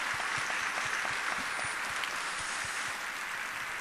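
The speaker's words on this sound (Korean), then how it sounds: "우리 한번 박수로 우리 한번 축복하겠습니다." A church congregation applauding during an autumn revival service, continuous crowd clapping with some steady, near claps repeating at an even beat, heard at moderate level.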